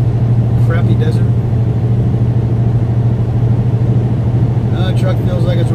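A truck fresh from a costly shop repair, engine running steadily as it drives through desert, a constant low rumble with brief faint higher noises near the start and end.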